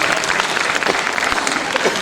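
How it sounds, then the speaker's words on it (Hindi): Audience applause at a stage felicitation ceremony, a dense steady wash of many hands clapping at close range, filling the whole moment with no talk over it. "इस मंच के लिए एक बार तालियां, एक बार अभिनंदन"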